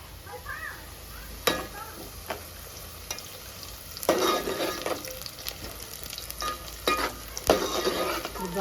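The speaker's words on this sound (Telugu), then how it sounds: "బాగా ఫ్రై కావాలండి, గోల్డెన్ కలర్ వచ్చే వరకు" Onions and curry leaves fry in a pan for goat head curry, a continuous sizzle with scattered scraping stir strokes and a few louder bursts of crackling as the food is turned.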